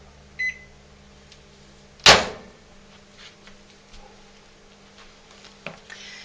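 A microwave oven heats shea butter for soapmaking, its countdown ending in one loud, sharp beep or door clunk near the start, followed by faint ticks and quiet room noise.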